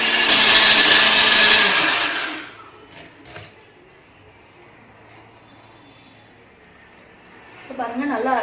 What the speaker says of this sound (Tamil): உடனே நம்ம ஒரு மிக்ஸி ஜாரில் போட்டு நல்லா கொஞ்சம் குறைன்னு அரைச்சிக்கலாம்